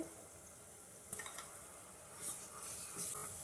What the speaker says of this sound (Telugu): ఇప్పుడు అల్లం వెల్లుల్లి పేస్ట్ వేసేసుకుందామండి.